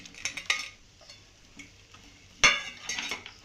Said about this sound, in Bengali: দিয়ে ভালোভাবে নেড়ে চেড়ে আমি সুজির হালুয়াটাকে একদম ঝরঝরে করে নেব